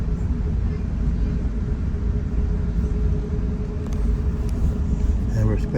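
Inside the lower deck of an Airbus A380 at Heathrow before departure, the cabin holds a steady low rumble and hum, with a voice talking over it.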